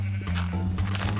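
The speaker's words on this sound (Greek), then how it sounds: "Εν τω μεταξύ είδα κάτι πρόβατα εκεί πέρα, πρέπει να το μαζέψουμε." A sheep bleats in the video game Minecraft, a loud, close bleat with a steady low game hum underneath.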